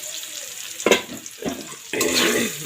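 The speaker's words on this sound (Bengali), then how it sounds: "ব্রাউন কালার করে ভেজে নিব।" Chopped green chili and onion hitting hot oil in a pan, bursts of sizzling and frying with stirring in a few short surges, close and moderately loud.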